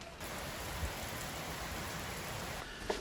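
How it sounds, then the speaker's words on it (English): Steady rain falls outside a garage, a broad even hiss running through the whole stretch with a faint tap or clink near the end. "wow, you can really hear it raining out there."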